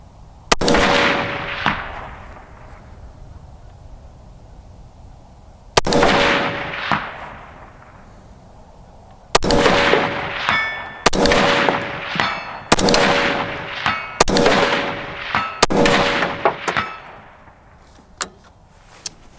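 A rifle with a new barrel fires at a steel target 300 yards away: about nine sharp, loud reports come at irregular intervals, some quick pairs, each followed by a faint metallic ring and echo.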